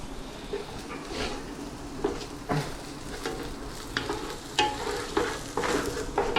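Onions sautéed and stirred in a pan at home while prawn biryani is prepared, giving a steady close sizzle with repeated scraping stirs and clinks of a utensil against the pan.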